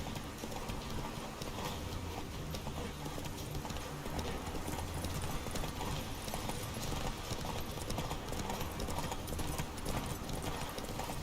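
Roach the horse galloping in The Witcher 3, a steady, continuous clip-clop of hooves running throughout with occasional faint whinnies, dense and fairly loud with no talk.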